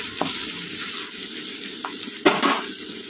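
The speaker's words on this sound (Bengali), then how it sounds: "আদা বাটা দিয়ে দিলাম। এবার এটা একটুখানি তো ভেজে নেবো" Ginger paste frying in a pan makes a constant bright sizzle, broken by a few short stirring scrapes and one louder clack of a spoon against the pan.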